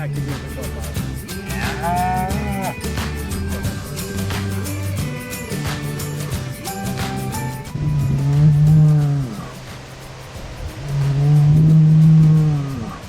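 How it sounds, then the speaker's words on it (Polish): A bull bellows repeatedly in a pasture among cows, with Polish Red, Blonde d'Aquitaine and Aubrac bulls present; long, loud, deep lowing calls come in two strong drawn-out bouts, preceded by a busier mix of moos and other noises. "a Buchaj cały czas zaznacza swoją obecność"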